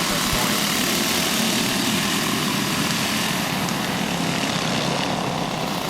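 Go-kart engines roar continuously at a backyard race, a loud, dense buzzing drone that stays constant throughout as several karts run close by.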